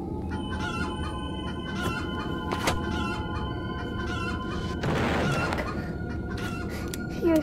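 Chickens cluck and squawk in a Roblox horror-tycoon game, a steady run of clucks over a constant game hum, with a louder burst of noise near the middle.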